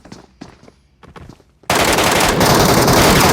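Machine gun fire in the Metro video game: a few light footsteps at first, then a sudden loud, sustained burst of rapid automatic gunfire that fills the rest of the moment.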